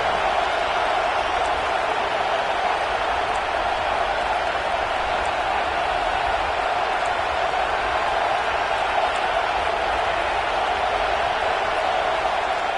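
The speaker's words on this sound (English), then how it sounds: "looking to this crowd, and they are delivering energy on this big 3rd down" A football stadium crowd roaring during a big third down in an Ohio State versus Nebraska game, a sustained wall of cheering noise that holds steady and loud throughout, with no distinct breaks.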